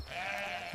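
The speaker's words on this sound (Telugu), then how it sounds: "తప్పిపోయిన నా గొర్రె దొరికింది" An animated sheep gives a single short, wavering bleat that sounds clear and close, with no talking over it.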